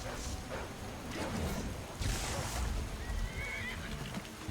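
A horse in Skyrim whinnies in a drawn-out neigh amid steady outdoor ambience and rustling, fairly close and moderately loud, with no talk over it.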